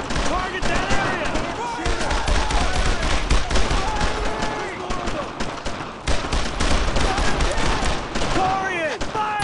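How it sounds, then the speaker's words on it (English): Gunfire fills a battle in the video game Brothers in Arms: Road to Hill 30, with dense rifle and machine-gun bursts and thuds running almost continuously, while soldiers shout commands over it. "I need suppressing fire!"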